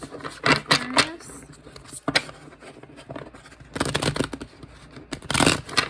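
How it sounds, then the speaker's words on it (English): A tarot card deck is shuffled in bursts of riffling and flicking card noise, with quieter pauses between them and a voice heard briefly. "that's really hard for me to shuffle the deck right now too"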